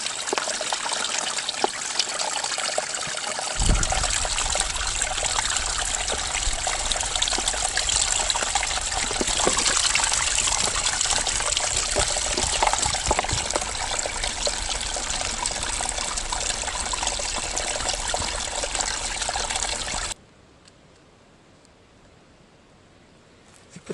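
Water runs steadily from a backpacking water filter used like a small faucet at a woodland camp, a close continuous trickling gush lasting about twenty seconds before stopping abruptly, with no talk over it.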